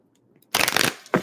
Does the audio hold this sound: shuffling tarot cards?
yes